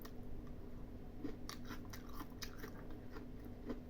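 Someone chews crunchy raw onion in an ear mushroom salad dressed with sesame oil, salt and lemon, giving close, soft crunching bites over a low steady background hum.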